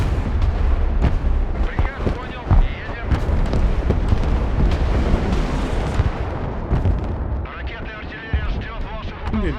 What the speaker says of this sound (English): they have some artillery over there which I really need to destroy